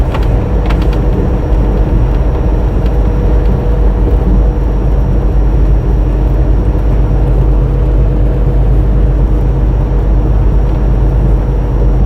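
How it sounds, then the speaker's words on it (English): A Kenworth truck rolls past on a Texas to Florida highway, a loud, steady low engine drone with road rumble that holds evenly throughout. "you hear that Kenworth?"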